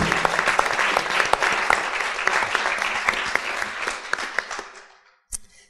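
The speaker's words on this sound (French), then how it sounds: "je vous demande de bien vouloir applaudir" A colloquium audience applauds a speaker, loud continuous clapping from a room of people that gradually thins and fades out, followed by a single sharp knock.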